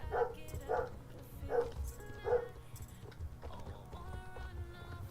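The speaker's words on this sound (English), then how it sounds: "You guys are gonna hear her bark a lot." A dog barks four times in a quick, fairly close run during the first two and a half seconds, then goes quiet while game music and faint background sounds carry on.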